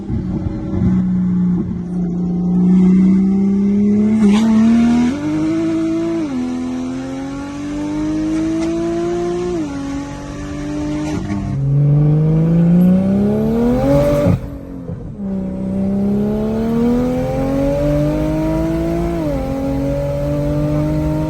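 A single-turbo BMW S55 engine revs through repeated climbing pulls, its loud exhaust tone rising and dropping between throttle blips, with no voices over it.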